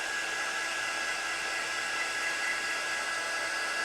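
A hair dryer blows on a napkin laid over a canvas for a mixed media piece, a steady close whooshing drone with an even pitch and no pauses.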